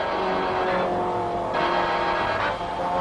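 Mini race cars lapping at the Sandown six-hour race, a steady dense engine drone with a rising whine of passing cars and brief tyre squeal, loud and continuous with no talk.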